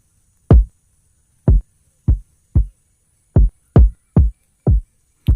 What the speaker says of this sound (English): let's choose some drum sounds. I'll start with a kick.